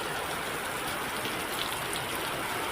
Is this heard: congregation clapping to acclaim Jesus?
no